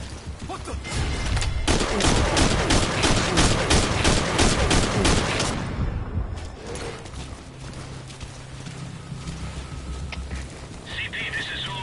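Dense bursts of rapid gunfire in Metal Gear Solid 5 crackle loudly for several seconds, then fade into a lower background rumble with scattered distant shots and a steady hum.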